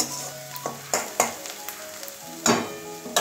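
A torn bay leaf sizzles in hot oil with ginger and garlic while cooking Bengali patol chhechki, a steady close frying hiss broken by a few sharp crackles and stirring clatters, with no talking.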